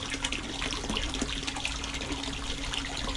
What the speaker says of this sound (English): I mean, there's decent water flow